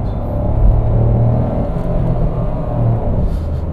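Renault Triber three-cylinder engine revving under load while climbing with a full load of passengers, a loud, steady, droning low rumble with slight swells in pitch, heard from inside the car.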